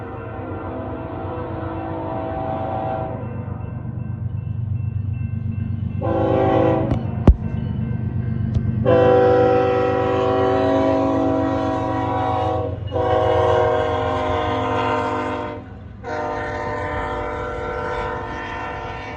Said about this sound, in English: We have caught back up to that intermodal train.